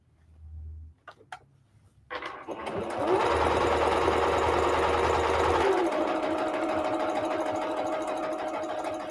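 A few faint clicks come first, then a sewing machine starts up and runs steadily, stitching fabric with white thread in a continuous whirring hum.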